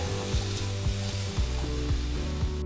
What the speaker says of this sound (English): We will allow the capsicums to stir fry.